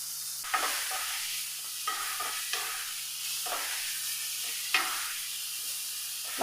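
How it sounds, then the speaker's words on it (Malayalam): Carrots and other vegetables with green chilli sautéed in a pan, a steady fairly quiet sizzle interrupted by several brief stirring scrapes and light taps of a spoon, with no talking. "എരിവിനാവശ്യമായിട്ടുള്ള പച്ചമുളക്, ഇത്രയും ചേർത്ത് നമുക്ക് നല്ല പോലെ ഒന്ന് വഴറ്റിയെടുക്കാം"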